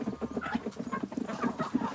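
Chickens clucking softly and steadily while being fed on a small farm, a faint cluster of overlapping short clucks with no voices.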